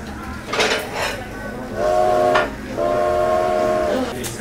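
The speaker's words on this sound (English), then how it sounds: "It's actually the choo-choo of a choo-choo train or a subway train." In a train-themed diner in Toronto's Cabbagetown, a choo-choo train whistle sound effect gives two loud sustained blasts, with some diner clatter and voices.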